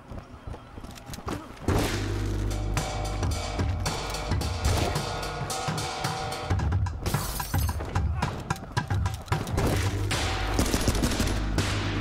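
Sniper gunfire in the video game Ape Out, a dense continuous barrage of loud cracks, shattering and heavy thumps throughout, with players talking over the chaos.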